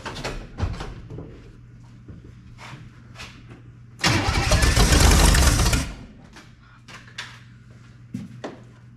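A 1962 Chevrolet Impala four-door hardtop, a car that had been smoking after earlier cranks, gives a few short cranking bursts and then roars loudly into life for about two seconds before dropping back, with a brief voice nearby.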